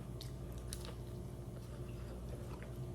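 Close, soft biting and wet chewing of fried okra dipped in ranch, a few crunchy bites followed by steady squishy mastication, quiet with no talking.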